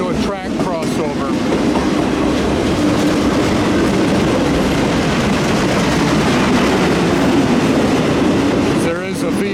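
A CN mixed freight train, eastbound and led by locomotive 2808, rolls steadily past close by, with a continuous loud rumble and wheel clatter throughout.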